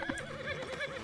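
A horse whinnies in the Red Dead Redemption game world (RedM roleplay), a short quavering neigh with wavering pitch, fairly clear and close over faint background.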